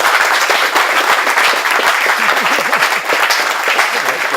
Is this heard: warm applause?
yes